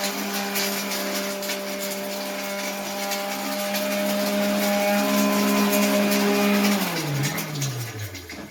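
A kitchen mixer grinder motor whirs with a steady, loud, high whine, then spins down and drops in pitch over the final second and a half. No one speaks.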